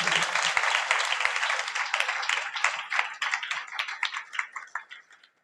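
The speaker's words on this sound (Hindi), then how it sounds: "तेज ताली बजा के होगा।" A church congregation at a Hindi-language worship service claps loudly together, a dense burst of many hands that is strong at first and then thins into scattered claps and fades out.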